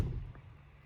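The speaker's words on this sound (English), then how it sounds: "And listen to these closing doors." A door on a 2021 Mercedes-AMG G63 swings shut with a single solid, low thud right at the start, then fades into quiet room tone.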